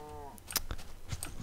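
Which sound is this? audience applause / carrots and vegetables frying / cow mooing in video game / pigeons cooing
cow mooing in video game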